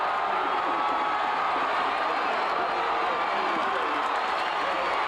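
A large college football stadium crowd at a Clemson vs Duke game roars in a steady, dense wash of cheering and noise, with a commentator talking over it.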